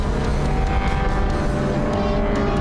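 A race car on a track runs with a dense, steady engine roar mixed with broad rushing noise, close and continuous, no clear gear changes in the short stretch.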